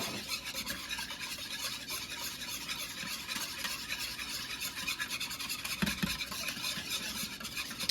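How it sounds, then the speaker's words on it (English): Ingredients whisked in a bowl for an easy home dinner, a steady close scraping and stirring rasp that runs continuously with a few sharper knocks near the end, no voices. "we're gonna whisk this up"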